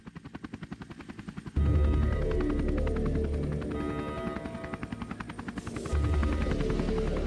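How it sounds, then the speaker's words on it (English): Attack drone in a video game, a loud continuous rotor-like mechanical drone with rapid pulsing chop, a heavier low rumble swelling in partway through and again near the end. "That's the Coke Jobs attack drone that hit us at the Capitol."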